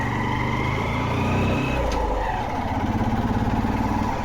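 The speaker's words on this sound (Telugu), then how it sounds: "అది యూనికార్న్ బైక్ 150cc." Honda Unicorn 150cc motorcycle running on a rough uphill track to a viewpoint, a steady close engine drone that drops into a rapid, pulsing thump toward the end.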